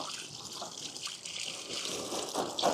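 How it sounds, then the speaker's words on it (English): Water sprays and splashes steadily as the screen of a Bubot 500P cordless robotic pool cleaner is rinsed to wash out sand and leaves, a continuous close gushing hiss with small drips. "rinse off the robot, get all the sand and leaves out"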